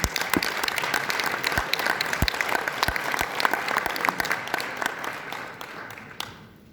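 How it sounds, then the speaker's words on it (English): An audience at an outdoor leadership training seminar in Poland claps in a dense burst of sharp, overlapping hand claps that carries on steadily, then thins and fades away near the end. "So we give our boss, Dr. Lim Boon Hong, once big applause for this event."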